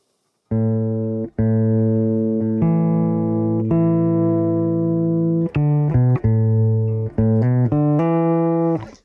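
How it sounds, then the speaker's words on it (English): Clean electric guitar plays alone through the Supermassive reverb plugin: long ringing notes, then a quicker run of plucked notes, each sustained with a spacious reverb tail. "So here's the guitar sound."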